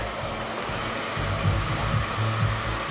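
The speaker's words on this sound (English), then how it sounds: "Now we're just lifting the dryer just slightly." A hair dryer fitted with a diffuser blows on long layered hair during a haircut, a constant close whooshing roar with slight swells as it is moved, no talk.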